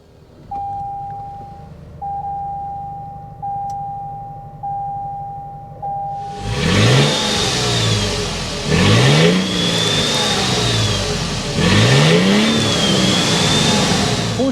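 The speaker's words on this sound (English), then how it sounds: "start up this Max Hybrid so you can hear that exhaust note" A repeating chime gives way to the engine of a 2024 Toyota Sequoia Platinum hybrid SUV starting, then revving loudly in three rising and falling surges, close by.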